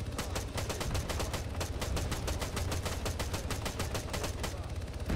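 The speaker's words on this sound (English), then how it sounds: "Stop shooting me." Rapid automatic gunfire from the Arma 3 video game rattles in dense, evenly spaced bursts throughout, loud and sustained with no speech over it.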